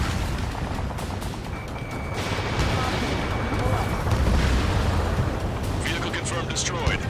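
Missile launch and explosion in the combat flight game Ace Combat 7: a roaring jet and missile rush, rumbling blasts, and a sharp crackling burst near the end, mixed under radio voices.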